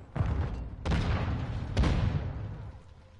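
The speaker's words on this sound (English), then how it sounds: "there's a lot of explosions" Repeated explosions from Call of Duty: Modern Warfare II multiplayer: three sharp, loud booms about a second apart, each rolling off into rumbling battle noise.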